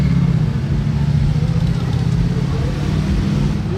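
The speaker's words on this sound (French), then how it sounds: "une Porsche Sport Classique, 992 Sport Classique" A Porsche 992 Sport Classic at the Monaco Grand Prix, a loud, close, steady low engine rumble with a continuous droning quality throughout.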